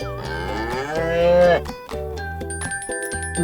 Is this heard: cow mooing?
yes